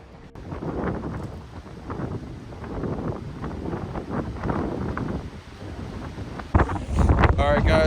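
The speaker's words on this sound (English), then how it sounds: "It's super windy today." Strong wind gusts outdoors during work rebuilding a roof with a tarp, a loud, continuous low roar buffeting the microphone throughout, with a brief rustling flutter near the end.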